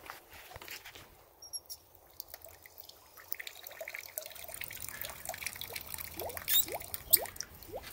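Water from a pump trickles and splashes faintly into a bucket, with scattered drips and small bubbling sounds growing busier toward the end.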